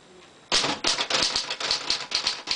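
A 1941 Royal Arrow portable typewriter types in a quick series of sharp, loud mechanical strikes, each key hitting with a clack and metallic ring, close up and alone.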